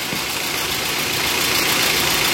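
A car engine with a noisy, rough sound runs steadily, a dense close-up mechanical rumble with no talk over it.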